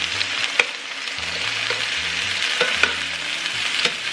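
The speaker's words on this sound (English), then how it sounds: "We are going to fry up the shallots with peppercorns, bay leaf, and thyme." Shallots fry with peppercorns in a pan, giving a steady close sizzle broken by a few sharp crackles and pops.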